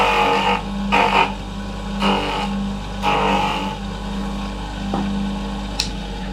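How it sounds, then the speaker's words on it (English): A motor-driven polishing wheel charged with jeweler's rouge hums steadily, rising in several broad swells as a scissor blade is pressed against it, close and moderately loud with no talking. "I've got to put a bit of polishing paste onto the polishing wheel."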